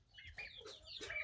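Chickens cluck faintly in a brief run of short calls while chasing a turkey in a mixed poultry flock.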